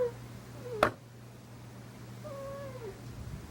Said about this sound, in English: You may be able to hear my cat.